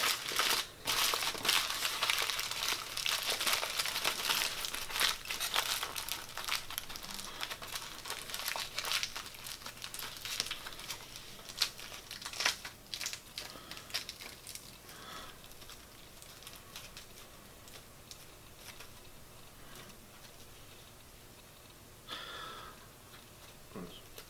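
Paper or similar material being tightly crumpled into a triangle shape for an upcycled owl sculpture, loud crinkling and crushing close up, fading to quieter rustles toward the end.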